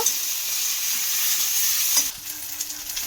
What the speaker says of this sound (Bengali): এবারে খুব ভালো করে মিশিয়ে নেব মানে মশলাটাকে খুব ভালো করে কষিয়ে নেব